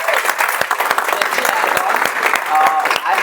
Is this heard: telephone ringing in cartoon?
no